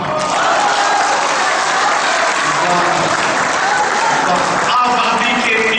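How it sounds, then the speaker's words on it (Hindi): Sustained applause from a mushaira audience, loud and dense with cheering voices mixed in, continuing steadily throughout with a brief dip near the end. "श्रोताओं की तालियां"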